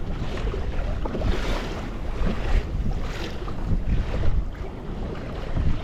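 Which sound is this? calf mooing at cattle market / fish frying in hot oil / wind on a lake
wind on a lake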